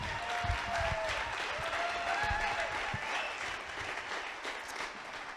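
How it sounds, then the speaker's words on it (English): Audience applause at an entrepreneur and investor event fills the room with steady, dense clapping that holds at even strength for several seconds, with a faint whistle or two on top. "please, round of applause."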